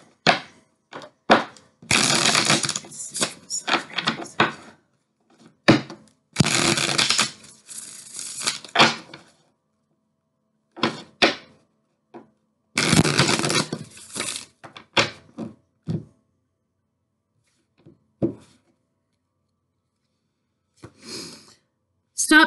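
A Rebel deck of tarot-style cards being shuffled by hand in several bursts of riffling and rustling, close and crisp, separated by quiet pauses.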